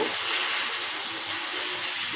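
Chicken with turmeric, roasted cumin, coriander powder, garam masala and salt fries in a pan, giving a continuous, even, loud hiss of sizzling that holds steady throughout without pauses or talk.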